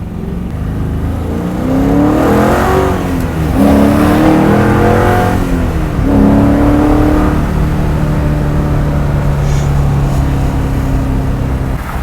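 A loud 600 hp LS7 V8 engine in a Pontiac Grand Am revs up repeatedly, climbing in pitch with each push, then holds a strong steady roar as it accelerates close by.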